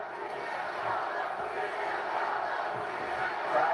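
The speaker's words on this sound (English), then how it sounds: "Crowd trying to rally against Punk." A large wrestling arena crowd at an Elimination Chamber event roars and chants in a steady, distant wash of voices and cheering.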